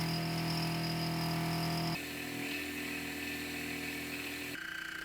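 A milling machine thins the middle of a steel tapping stand arm, giving a steady mechanical hum with tonal whine that shifts pitch partway through as the cut changes, close and moderately loud with no talk.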